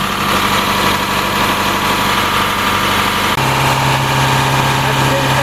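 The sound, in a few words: International RE30 school bus engine running at 2000 RPM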